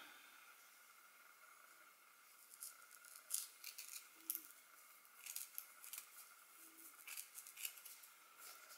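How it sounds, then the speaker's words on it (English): Close, quiet snips of blunt scissors cutting seal skin, scattered irregularly over a soft hiss, with a few sharper crisp cuts standing out; no talking. "These scissors are getting blunt."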